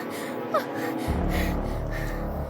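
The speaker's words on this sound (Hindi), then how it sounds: "एक युवती उनकी खाट पर बैठी बुरी तरह हाँफ रही थी।" A young woman gasps and pants heavily in a dramatized Hindi suspense story, a sharp intake of breath followed by close, steady labored breathing over a low background drone.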